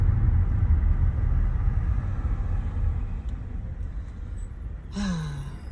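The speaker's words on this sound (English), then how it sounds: "this punk ass bus pulls off" A bus pulls off nearby, its low engine rumble strong at first and then fading gradually, with a brief air-brake hiss or squeal near the end.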